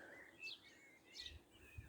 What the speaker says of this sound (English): Nice to just listen to the birds singing.